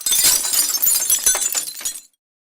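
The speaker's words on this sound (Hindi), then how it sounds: "इतने में ही कांच के टूटने की आवाज फिर से आती है" Glass shattering and breaking, a loud burst of crashing shards followed by a quick run of tinkling fragments over about two seconds, then silence; no voices.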